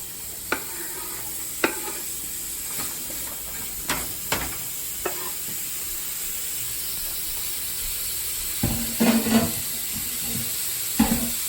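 Sausage cooks in a pot with a steady close sizzle and hiss throughout, broken by scattered utensil clicks and scrapes, and a louder bubbling burst near the end.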